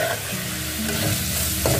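Spice paste fries in a pan for aloo baingan, a dense, close sizzle with constant stirring and a few low humming tones underneath, steady throughout the short stretch.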